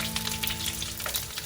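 Lemongrass and green curry paste fry in a hot pan for green chicken curry, giving a steady, close, crackling sizzle with no voices.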